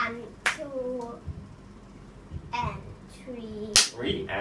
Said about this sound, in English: The way you clap your hands should be even.